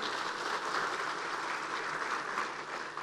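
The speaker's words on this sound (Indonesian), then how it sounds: "insya Allah tepuk tangan" Applause from delegates at a PKS party national congress, a steady wash of clapping that sounds distant and fairly faint, continuous for the whole stretch with no clear voices.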